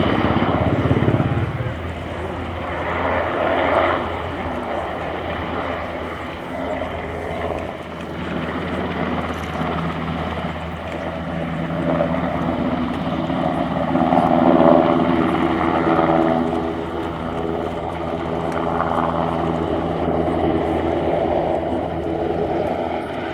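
An NH90 TTH medium-lift helicopter flies a display at RIAT 2024, its rotor and turbine roar loud and steady throughout, swelling slightly as it passes closer.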